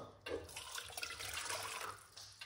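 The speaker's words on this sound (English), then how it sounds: "we're going to get some hot water" Hot water runs and splashes steadily as it is poured, a continuous close-up liquid rush that holds for a couple of seconds before easing off slightly.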